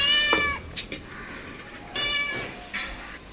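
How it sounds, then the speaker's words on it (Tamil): A cat meows about three times in a garden where pakoda is deep-frying in oil. The calls are separate and fairly close, with soft ambient noise between them. "பாருங்கள் பூனை வந்திருக்கு"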